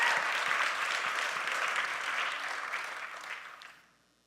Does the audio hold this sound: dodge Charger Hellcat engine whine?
no